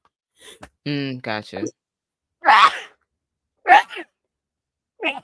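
A single sharp sneeze bursts out among casual chatter between people discussing comic book pull lists, with voices talking before and after it.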